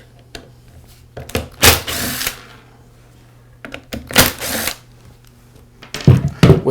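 Close mechanical clicks and a screwdriver working two screws out of the black pad housing on a Porter Cable sander, in two bursts of ratcheting, scraping turns separated by quiet handling and small taps.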